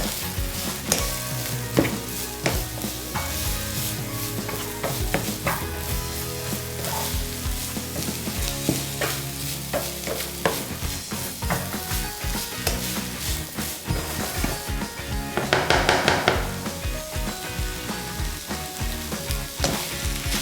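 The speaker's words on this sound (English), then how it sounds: "you're gonna add your onions and cook them until they kind of softened a little bit" Onions fry and are stirred with bacon in a pan for pork nachos. A steady sizzle runs under repeated scraping and clattering stirs, with no voices.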